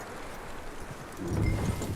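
Horse hooves clip-clopping in the video game Red Dead Redemption 2, a soft, steady walking rhythm under ambient game noise, growing a little louder and heavier toward the end.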